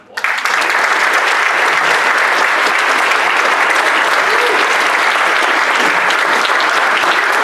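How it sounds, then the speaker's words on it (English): An audience at a Rotary honors celebration for scholars and Interact/Rotaract clubs bursts into loud, sustained applause, a dense steady roar of clapping from a large room that continues evenly throughout. "please join me in giving our Rotary Honor Scholars a round of applause"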